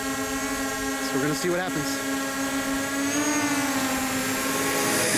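DJI Mavic Pro drone hovering close by, a steady high-pitched whine with stacked harmonic tones that shift slightly in pitch, loud and continuous while someone speaks briefly over it.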